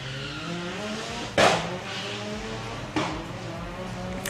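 A Volkswagen drag race car pulls away down the strip at Santa Pod Raceway, its engine a steady droning roar punctuated by two brief louder bursts, with no talking.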